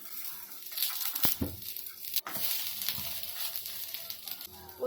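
Bun dosa batter fries in oil in a covered pan and is flipped over. A steady, close sizzle is broken by a couple of sharp metallic clanks from the lid and spatula.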